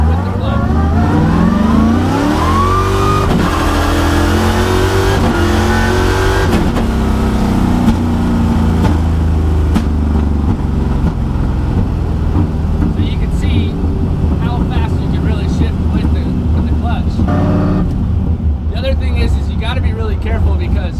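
A BMW E36 fitted with a dog box transmission revs hard through the gears with the clutch, its engine pitch climbing and dropping at each shift, loud and close throughout.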